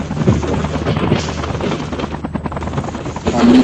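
A helicopter in the mobile shooter game Call of Duty: Mobile, its loud, close rotor chop and engine drone filling the whole stretch, with sporadic gunfire mixed in.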